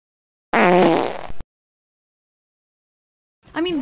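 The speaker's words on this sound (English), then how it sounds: "I'm gonna give you that fart joke." A short, wet fart sound effect blurts out alone, followed by silence and then the start of another brief, tonal fart sound.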